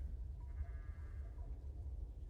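Sheep in the horror video game REANIMAL bleat once, a faint wavering cry over a low droning ambient rumble, with no talk.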